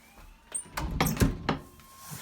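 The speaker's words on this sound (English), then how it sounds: "So when we shut it," A heavy front door, recently repaired after sticking, swings shut with a series of close knocks and thuds building to a firmer closing bump, then settling quietly.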